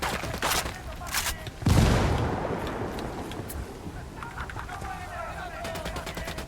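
A frag grenade blast and gunfire in the video game Ghost Recon Wildlands: a few sharp shots lead into a loud booming explosion that decays over seconds, then scattered gunfire continues nearby.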